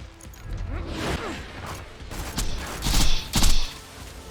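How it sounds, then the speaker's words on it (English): An RPG loader robot opening fire in the Borderlands video game: a few sharp blasts and crashing impacts with whooshing and mechanical clatter, layered over background game noise. "Oh, he's shooting already."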